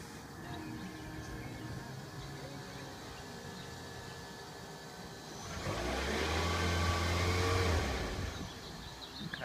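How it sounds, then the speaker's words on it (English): A car engine idles with a steady low hum, then revs up for a couple of seconds and settles back. The surge is louder and rougher, heard alone without talk. "The car is revved up."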